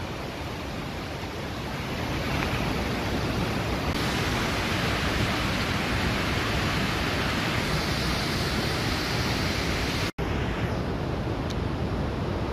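Shell Falls in the Bighorn Mountains roars as a steady, loud broadband rush of falling water, continuous and full throughout, briefly cut by a tiny dropout near the end.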